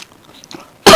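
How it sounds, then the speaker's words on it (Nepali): A single loud, harsh cough bursts in near the end after near silence, close to the listener. "खोक त खोकी लाग्दैछ है"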